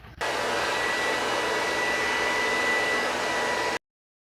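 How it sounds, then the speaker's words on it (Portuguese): A hair dryer blows steadily for a few seconds to heat plastic, a close, even whooshing hum that cuts off abruptly. "Eu vou passar um pouco do secador para aquecer um pouquinho o plástico"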